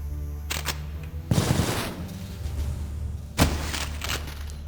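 Enemy assault rifle gunfire in the shooter game Cultic, set in a mine on hard difficulty: two short, loud bursts a couple of seconds apart, each trailing off over a steady background hum.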